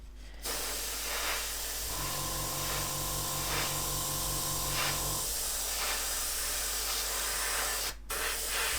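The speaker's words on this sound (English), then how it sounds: "There's our spray." A steady airbrush spray of lacquer paint hisses continuously for most of the clip, close and even, briefly cutting out once near the end.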